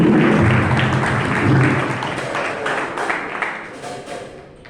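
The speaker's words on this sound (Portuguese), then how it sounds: "uma linda salva de palmas para o Senhor Jesus" Congregation in a church applauds during a thirteenth-anniversary service, a dense wash of clapping sustained across the clip and tapering slightly toward the end, with some faint voices mixed in.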